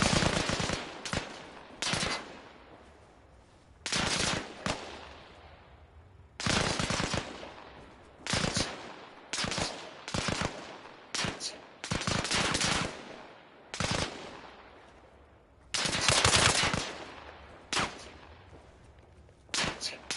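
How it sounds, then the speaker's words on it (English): Gunfire in Arma Reforger aimed at a window, repeated bursts of sharp automatic shots in irregular clusters with short pauses between, loud and close, each burst trailing off in a brief echo. "they're gonna start shooting at this window"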